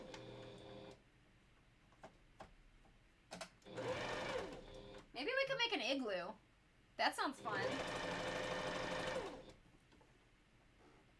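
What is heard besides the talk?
sewing machine skipping stitches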